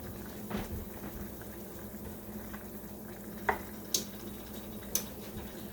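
A spoon stirs pork tenderloin in a mushroom gravy with soft, wet churning close by, broken by a few light clinks against the pan.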